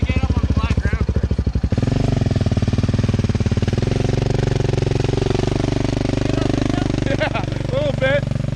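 A damaged quad ATV engine revs and chugs in a loud rapid pulsing rhythm close by as it is driven out onto flat ground, with voices briefly calling out over it.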